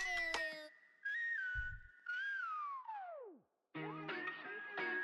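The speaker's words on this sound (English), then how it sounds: "That whistle melody." A whistled melody opens a song, with clear sustained tones that slide up and bend down in short phrases, alongside brief percussive hits and sparse backing, played quietly.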